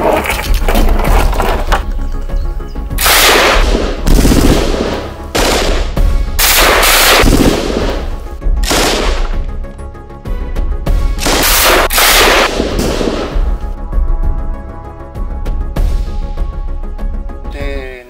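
Loud bursts of rapid automatic gunfire aimed at a church crypt window, long rattling volleys with brief pauses between them, echoing heavily and filling the whole stretch.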